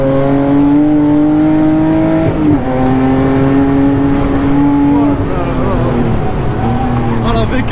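A pickup truck drives a race circuit during a track day, its engine holding a loud steady drone that drops and climbs again through several gear changes, close and continuous.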